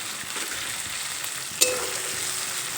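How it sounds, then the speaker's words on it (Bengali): Ground spice paste fries on low gas flame in a pan, a soft steady sizzle with a sharp scrape of stirring midway. "মশলাটা কিছুক্ষণ ভেজে নেব যাতে এই বাটা মশলার কাঁচা গন্ধটা না থাকে"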